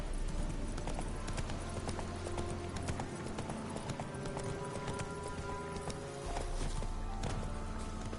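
Roach the horse walks in The Witcher 3, steady clip-clopping hooves close by over ambient game sounds, with no voices.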